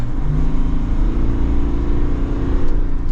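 A 2023 Chevrolet Tahoe RST with the Duramax diesel accelerates on light throttle, a steady low engine hum and road noise that rises gently, heard from the cabin.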